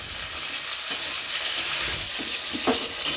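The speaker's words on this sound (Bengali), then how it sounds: "ডাটাগুলোকে একটু উল্টোভাবে ভেজে নেবো ভালোভাবে" Drumsticks frying in hot oil in a kadai, loud continuous sizzling with bursts of spatter and stirring clinks, close and without speech.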